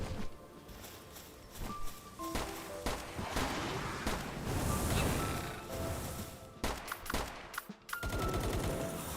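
Machine gun fire in Palworld, dense bursts of rapid shots layered with game effects and impacts, loud and continuous across most of the clip with a few sharp breaks near the end.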